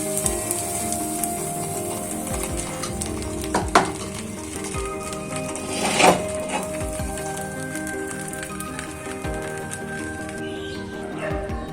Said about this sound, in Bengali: এই দেখো ডিমের ব্যাটারটা দিয়ে দিলাম।